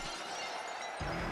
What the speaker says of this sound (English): when you hear the glass, that's your ass, boy